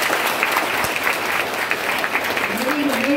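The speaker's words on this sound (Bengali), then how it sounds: "এইবার আমরা অন্যান্য শিক্ষকবৃন্দের জন্য একটা জোরে হাততালি" A large audience at a college freshers' event applauds the teachers with loud, steady clapping that fills the whole stretch, dense and continuous, with a voice briefly audible beneath it.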